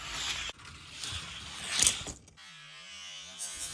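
Hot Wheels die-cast toy cars, a Demon and a Classic '57 T-Bird, roll down a drag track with a brief rattling whir that rises and then stops, leaving a faint mechanical hum.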